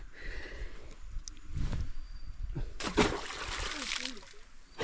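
A barramundi fish released into an aquarium pool makes a few splashes and water sloshes, one short splash early on, then a louder, longer burst of splashing and churning water nearby.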